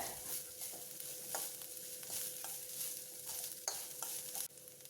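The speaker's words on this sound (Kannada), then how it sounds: "ಕಾಯಿ ತುರಿನ ಈ ಥರ ನೀವು ಎಣ್ಣೆನಲ್ಲೇ ಫ್ರೈ ಮಾಡಿ ಹಾಕ್ಕೊಳ್ಳಿ" Grated coconut fries in hot oil with a steady crackling sizzle, broken by light scrapes and taps of a spoon at intervals.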